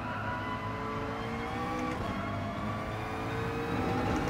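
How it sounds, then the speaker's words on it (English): A race car in Gran Turismo Sport engine braking after a downshift, a steady loud engine drone with layered tonal whine and road noise, held throughout with no voices. "Had to throw down a gear just to engine brake myself there"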